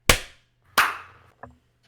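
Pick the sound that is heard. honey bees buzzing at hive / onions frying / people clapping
people clapping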